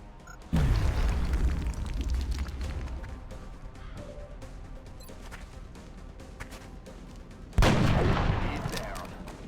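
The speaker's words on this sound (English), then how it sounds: "Throwing grenade." A grenade explodes in the strategy game XCOM Long War, a sudden loud booming blast that rumbles and decays over several seconds, followed by a second heavy explosion near the end.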